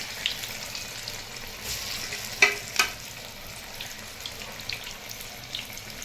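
Chicken neck pakoras fry in a wok, giving a steady close sizzle and bubbling with a couple of sharp utensil clinks and no talking.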